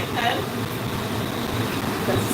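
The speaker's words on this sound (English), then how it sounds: "Excuse the noise, that's just the extractor fan" A kitchen extractor fan whirs with a constant broadband rush over a low rumble, steady and fairly loud close by, with voices faintly mixed in.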